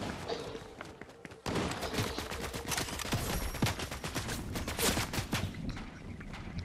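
Rapid gunfire from the Fortnite battle royale game, bursts of shots cracking one after another in a dense, loud fusillade with thuds mixed in, while players talk over it.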